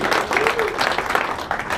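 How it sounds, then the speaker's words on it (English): A small meetup crowd applauds during a prize giveaway at a PHP user group, with a steady wash of hand claps that stays dense and even throughout the short burst. "So loud clap and a cheer for Nigel."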